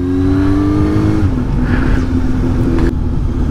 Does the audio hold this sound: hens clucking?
no